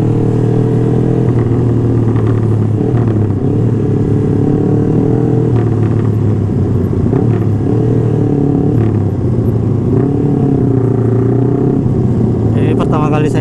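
A Yamaha motorcycle engine rumbles steadily throughout on a night ride in Makassar, Indonesia, loud and close, with occasional revving and a voice talking over it.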